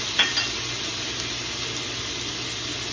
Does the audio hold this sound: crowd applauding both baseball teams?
no